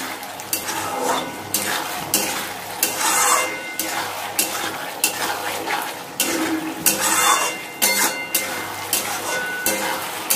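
Potatoes stir-fried in oily mutton curry masala in a Bengali home kitchen, a steady sizzle broken by repeated scraping strokes of a spoon against the pan, loud and close.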